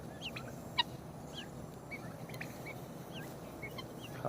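A large turkey and other fowl out on grass, with scattered faint gobbling and clucking calls over a soft background murmur, one sharper call standing out near the start.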